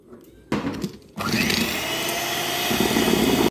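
An electric mixer beats eggs and sugar for a honey cake batter: a loud, steady motor whir kicks in, stops briefly, then runs on continuously up close.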